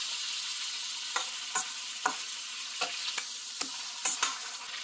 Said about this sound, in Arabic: هنقلبها اصدقائي على الوش التاني لغاية انا عايزاها تحمر